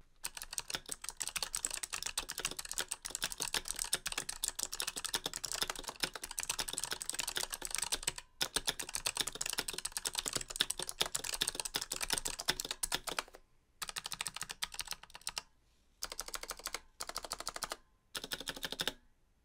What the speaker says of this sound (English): just so you guys can hear how this new switch sounds for yourselves, here is a quick sound test.